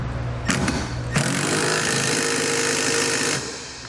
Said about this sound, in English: we can go ahead and snug down our large bolt up top.